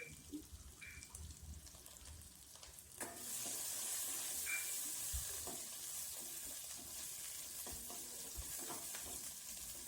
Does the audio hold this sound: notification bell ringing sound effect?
no